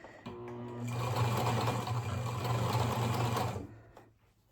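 A sewing machine stitches a fabric scrunchie in one steady, close burst of humming and rapid needle chatter lasting a few seconds, then stops.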